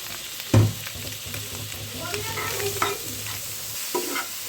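Chopped mustard greens stirred with onion and egg in a frying pan, a soft continuous sizzle under a few spatula scrapes and knocks, heard up close with no talking.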